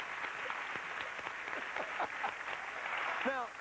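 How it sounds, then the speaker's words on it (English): Studio audience clapping on a late-night talk show, a steady patter of hands in a mid-sized room with a voice briefly rising over it near the end. "Now, why is it mostly men who are clapping?"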